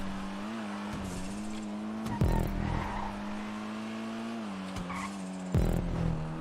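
A small race car in a GTA 5 race hums along with a steady engine drone, broken by two sharp tire squeals and skids, close and loud, with no talking.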